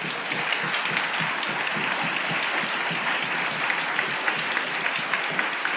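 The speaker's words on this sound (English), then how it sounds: "So give yourself a round of applause." Steady applause from a panel audience at a journalism program anniversary, many hands clapping evenly and continuously at moderate volume for several seconds.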